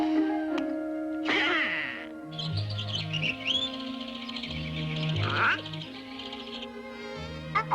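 Scattered chirps and tweets ring out alone, with sharp rising calls and a warbling song in a quiet outdoor setting.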